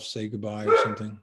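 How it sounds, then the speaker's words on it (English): A pet dog barks a few short, close yips to be let outside, overlapping with a person speaking nearby. "that's my dog saying it's time to go out"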